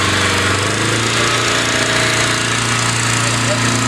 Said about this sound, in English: That's a pretty good example of a Detroit diesel.